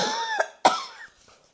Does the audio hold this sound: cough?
yes